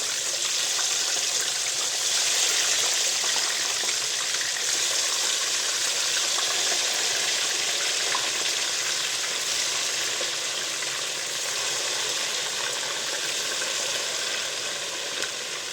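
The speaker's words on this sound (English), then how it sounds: "That is, I'm frying the fish now." Fish fries in hot oil for a stew, a loud, dense sizzle that crackles steadily and evenly throughout with no talking.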